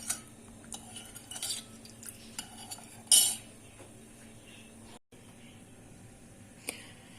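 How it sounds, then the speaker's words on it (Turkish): A spoon stirs Turkish şerbet syrup in a metal pot for Kıbrıs tatlısı, giving light intermittent clinks and scrapes against the pot. One sharper clatter stands out near the middle over a faint steady background hum. "Şöyle şerbetimi bir karıştırıyorum arkadaşlar ve kaynamaya bırakacağım."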